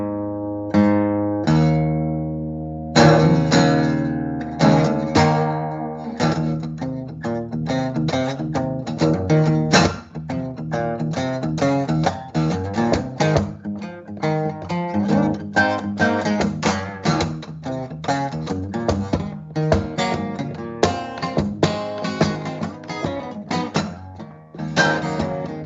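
A slightly sour, out-of-tune acoustic guitar plays a long run of plucked notes and strums, close and fairly loud, with no talking.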